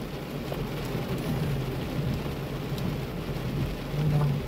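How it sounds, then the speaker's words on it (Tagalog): Heavy rain pouring steadily over a parking area in Ontario, Canada, a dense unbroken roar of downpour with faint low rumbles underneath. "Sobrang lakas ng ulan, as in wala akong makita masyado, as in tuloy-tuloy yung pagbuhos ng ulan."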